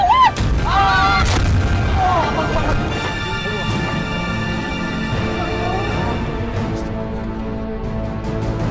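A car exploding in an Indonesian TV drama, heard as a loud boom followed by a long rumbling, crackling tail.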